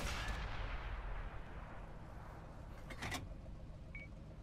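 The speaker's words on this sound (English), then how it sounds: "I'm just shooting houses and making them catch on fire" Tank cannon fire in World of Tanks, a heavy low boom that fades into a long rumbling decay, with a brief sharper crack near the end, fairly quiet overall with no talking.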